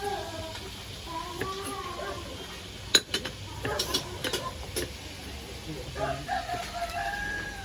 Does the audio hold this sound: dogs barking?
no